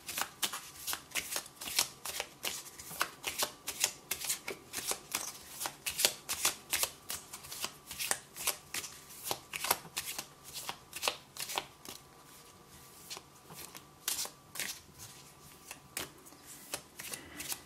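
Lenormand cards are shuffled over and over in quick rhythmic riffles, close and crisp, with a brief pause partway before the shuffling resumes.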